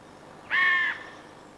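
A single harsh caw from a jay imitating a carrion crow, one loud, close, rasping call lasting under half a second against quiet surroundings.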